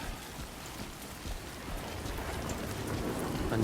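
Rain pours in the Death Stranding 2 game world, an unbroken wash of patter and hiss that swells slightly louder toward the end of this short moment.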